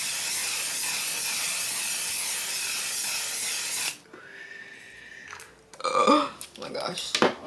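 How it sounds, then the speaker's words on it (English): A broad, steady aerosol hiss runs for several seconds and then stops abruptly, followed by faint rustling and a short breathy exhale. "Now, my final layer of spray."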